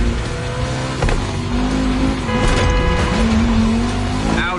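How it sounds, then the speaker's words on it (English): Race car engines, including Audi and Porsche, roar and whine as they shift through gears in a video game race, with tires squealing; steady, loud racing noise without talk. "Audi blowing Porsche away."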